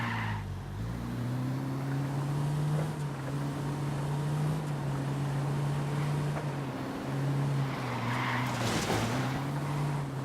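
Car engine droning steadily in Ghost Recon Wildlands, a continuous loud hum that rises and falls slightly in pitch as the vehicle drives along a dirt road, with a brief whoosh near the end.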